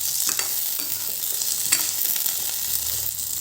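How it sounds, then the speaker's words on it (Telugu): Onions for capsicum curry sizzle in a hot pan, a steady loud frying hiss with a few clicks and scrapes of stirring, and no voices. "ఇప్పుడు ఆనియన్స్ కూడా వేసేస్తున్నాను. ఇలా ఫ్రై చేసుకుందాం."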